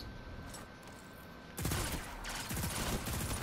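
Pulse rifle fire in Destiny 2 Trials of the Nine, quiet ambience before a sudden run of rapid, punchy burst shots that continues loud to the end, with no talk over it.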